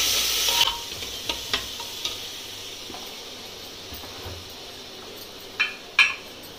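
Garlic fries in a pot for aloo tehri, giving a soft, continuous sizzle broken by several short spoon clacks and scrapes, with two louder knocks against the pot near the end.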